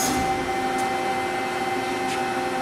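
A Lauffer RMT 100 high-speed straight-side hydraulic press cycles once at 30 tons, a steady whirring hydraulic hum with a faint tonal whine and soft clicks, moderately loud and continuous with no talk.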